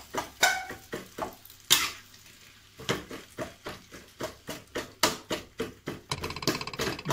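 Kwetiau noodles are stirred and fried in a pan, with repeated sharp scrapes and clanks of a utensil against metal over a soft background sizzle, close and irregular.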